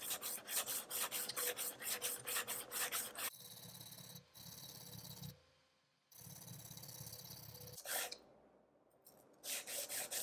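Santoku knife, a Fujiwara Maboroshi 165mm, being sharpened on a whetstone with a slurry: repeated rhythmic rasping strokes, close and loud, broken by short pauses and a near-silent gap.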